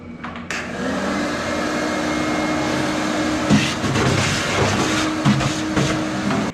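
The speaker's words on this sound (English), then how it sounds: "So I'm just going to do a quick vacuum on it" A vacuum cleaner runs in the trunk of a 1969 Mercury Cougar, a continuous loud whooshing drone with a steady hum, broken by faint knocks and bumps as the nozzle moves around.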